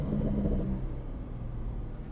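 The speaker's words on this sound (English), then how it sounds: "this car has Porsche Sport exhaust" Porsche 911 engine breathing through its Porsche Sport exhaust with the valves partly open, a steady low rumbling idle or light rev that stays even and close for about two seconds, with no talk.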